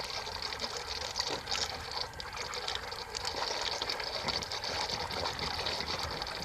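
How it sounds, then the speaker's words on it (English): A Polaris pool cleaner fed from a garden hose sprays water from its three jets, making a steady rushing hiss with a faint mechanical whir underneath. "The 3 jets shot water out."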